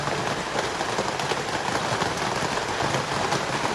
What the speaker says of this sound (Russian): Давно дождя такого не было.